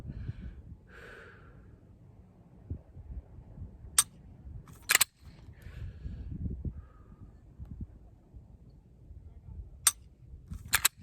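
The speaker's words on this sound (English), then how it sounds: "Dry fire until it feels good." A pistol's trigger clicks during dry-fire practice, a handful of sharp, isolated snaps spread across quiet, low rumbling background noise.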